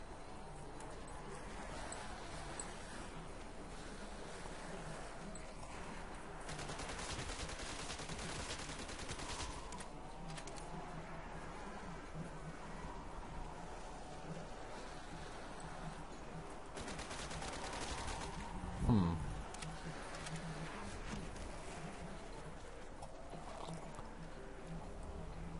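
Rapid bursts of LMG and SMG fire in a zombies video game, a steady busy rattle of shots mixed with game noise at moderate level.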